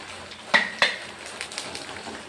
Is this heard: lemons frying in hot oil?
yes